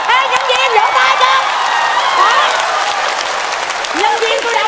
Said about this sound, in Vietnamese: Ê, nhân viên vỗ tay cho.